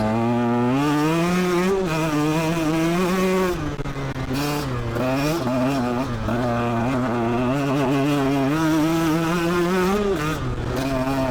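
A 2017 Husqvarna TE150 dirt bike fitted with a Lectron carburetor rides uphill, its two-stroke engine buzzing loud and close throughout, pitch rising and dipping as the throttle opens and eases.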